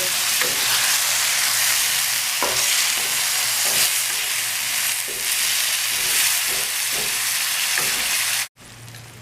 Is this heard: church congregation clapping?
no